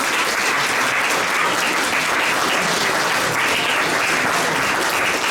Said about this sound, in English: All big round of applause for Ken.